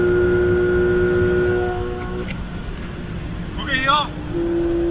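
A car drives past on a road near a Porsche, its engine and tyre noise fading away while a person speaks over it.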